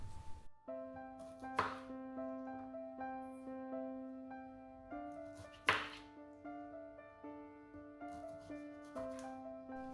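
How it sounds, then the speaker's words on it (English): A knife halves Brussels sprouts on a cutting board, giving a few soft, spaced thunks close by while steady sustained musical tones play throughout. "Time now to prep the Brussels sprouts, and all I'm going to do is halve these cute little specimens."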